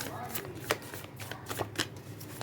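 Tarot cards are shuffled by hand up close, making a quick, papery riffle with soft slaps and a few sharper taps, while a voice is faintly present underneath.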